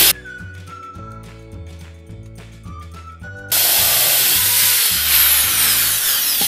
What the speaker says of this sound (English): So I've been drilling now for maybe 10 minutes.